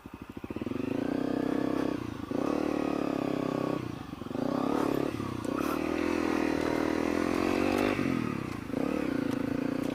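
A dual sport motorcycle ridden off-road, its engine droning loudly and steadily as it revs up and eases off several times, with short dips between pulls and rattles of the ride over rough ground.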